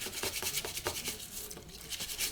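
Brush scrubbing the outside of a removed carburetor body in hot water with cleaner, a steady rasping rub in quick repeated strokes, close and fairly loud.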